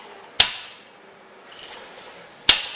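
An air-assist airless sprayer pump pulls lacquer into its lines, giving two sharp knocks about two seconds apart with a hissing rush building between them.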